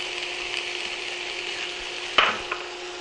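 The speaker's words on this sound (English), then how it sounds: "My olive oil is hot, so I'm going to add my onions." Onions fry in hot olive oil in a skillet, giving a steady sizzle, while a sharp clatter of stirring or a utensil cuts in briefly near the end.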